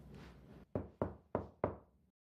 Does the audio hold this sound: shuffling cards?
no